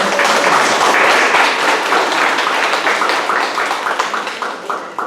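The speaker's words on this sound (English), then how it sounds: "Can we give our facilitators a round of applause?" Loud, dense applause from a room of attendees at an in-person Sacramento Food Policy Council event, a close, sustained burst of many hands clapping that tapers slightly toward the end.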